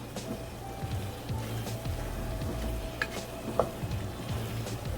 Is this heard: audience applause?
no